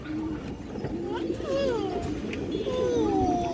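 Pigeons of fancy breeds coo softly and repeatedly in a loft, rising and falling warbles near the listener, with a person talking over them and general background chatter.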